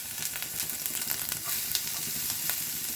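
Ginger sizzles in hot oil in a pan, the first step of a carrot manchurian: a steady, close crackling fry with small scattered pops, running alone without talk.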